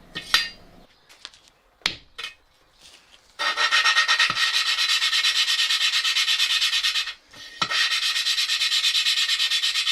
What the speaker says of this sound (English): I'm going to clean it on the wire wheel